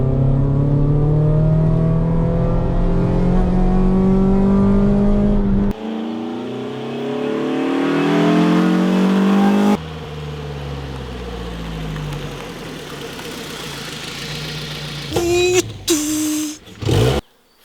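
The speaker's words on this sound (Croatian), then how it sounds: "Na turbo motor kad god stisnete gas" A Ford Fiesta ST150's turbocharged engine revs hard through rising acceleration sweeps and gear changes, loud and close, then settles before a few sharp bursts of noise near the end.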